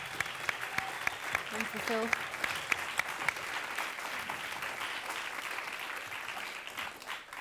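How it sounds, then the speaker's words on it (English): A conference audience gives a round of applause for a media team, a sustained wash of clapping from a crowd, while someone briefly speaks a few words of thanks over it. "Can we have a round of applause for the media team there"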